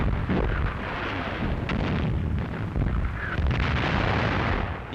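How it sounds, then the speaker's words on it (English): Enemy artillery shells bursting among advancing infantry and tank units in a WWII German newsreel, heard as a dense, continuous rumble of distant explosions and booms with no clear gaps. "Die Granaten der feindlichen Artillerie schlagen zwischen den vorgehenden Verbänden ein."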